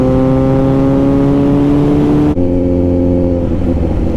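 A Kawasaki Z900 superbike engine revs loud and close, holding a high droning note before it drops abruptly and settles into a lower, rougher running sound.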